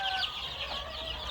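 Many tiny chicks at a poultry farm, waiting to be vaccinated, peep continuously in a dense, high-pitched chorus close by.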